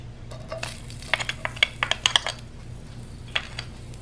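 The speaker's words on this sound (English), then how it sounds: "Add your garlic." Garlic sizzles in avocado oil in a deep, large saute pan over medium heat, a soft hiss under a run of sharp clinks and scrapes from a utensil stirring against the pan.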